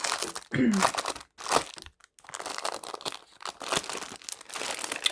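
Paper crinkles and crumples close by in several irregular bursts, separated by brief pauses.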